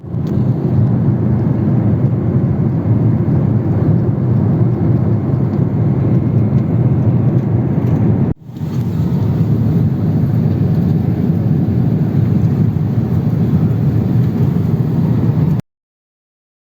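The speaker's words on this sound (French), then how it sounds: "Aujourd'hui je suis dans l'avion Qatar Airways." Steady, loud cabin roar of a Qatar Airways airliner during takeoff, a dense low rumble that drops out briefly midway and then continues unbroken.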